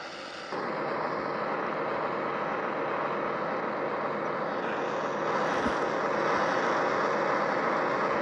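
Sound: F-35 jet aircraft engine in an aircraft carrier video game

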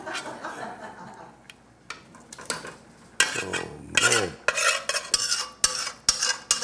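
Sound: big spoon scraping food out of a pot

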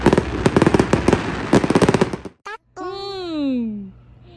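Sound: fireworks going off

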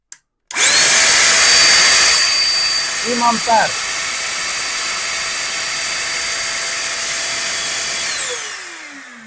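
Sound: YOFIDRA cordless vacuum cleaner motor running on Makita battery

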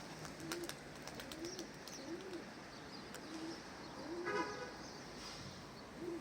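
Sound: Dumanlı eke pigeons

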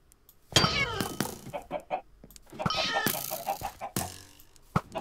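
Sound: chicken clucking in a Minecraft video game (Mineplex)

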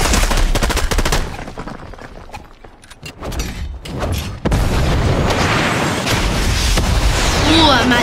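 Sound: gunfire from a turret in video game Fortnite

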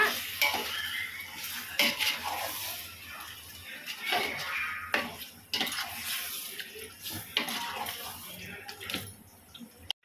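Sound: stirring yogurt into chicken in a pot for biryani

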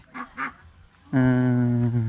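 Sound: ducks on a farm

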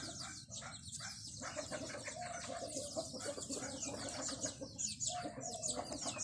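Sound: bantam chickens flapping and clucking while being caught for breeding

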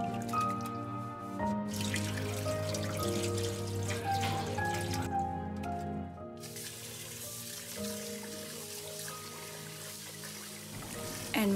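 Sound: washing soaked sticky rice in a metal strainer

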